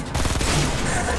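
Rapid gunfire in Fortnite Battle Royale while shooting an enemy, a dense burst of shots lasting about a second, loud and close.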